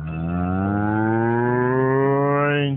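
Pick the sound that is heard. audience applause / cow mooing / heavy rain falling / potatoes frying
cow mooing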